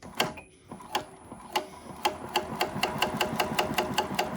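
A SEWPRO 8360BL 17-inch post bed sewing machine stitching a piece of material with heavy thread, a fast steady mechanical clatter that starts in a few spaced strokes then runs continuously, close and clear with no talk.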